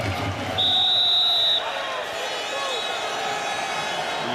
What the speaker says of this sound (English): And the whistle goes for a free kick to the Czechs